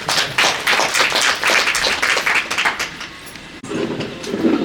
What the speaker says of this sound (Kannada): ಮತ್ತೊಮ್ಮೆ ಬರಲಿ ಚಪ್ಪಾಳೆ.